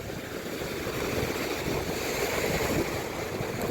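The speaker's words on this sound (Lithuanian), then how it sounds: "Ledinis vėjas, kaip iš šiaurės pusės." Icy wind sweeps across a cold coastline, a constant heavy rush buffeting the microphone with surf-like roar, steady and loud throughout with no talk.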